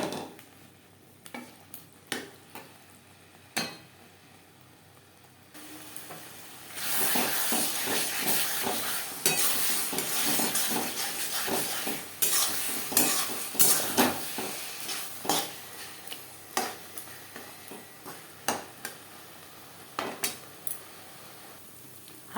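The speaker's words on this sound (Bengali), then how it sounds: "হাই টু মিডিয়াম ফ্লেমে নাড়াচাড়া করে নেওয়ার পর" Kochu (taro) greens being stirred and dry-fried in a pan over high-to-medium flame, a steady loud sizzle and hiss with repeated scraping stir strokes, quieter at first then building to a sustained fry.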